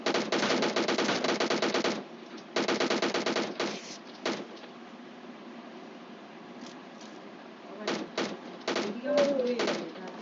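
Automatic gunfire in the battle royale game PUBG rattles out in two long rapid bursts, then scattered single shots and short volleys. A player's voice talks over the quieter stretches.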